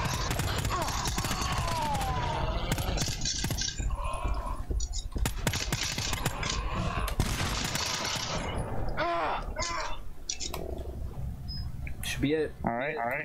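Sniper rifle fire and other weapons in the co-op horror shooter GTFO, loud bursts and impacts layered over continuous game noise while players talk throughout.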